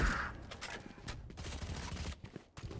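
Rapid gunfire bursts in a Valorant esports match, several sharp sharp cracks and clattering volleys in quick succession over a busy game mix.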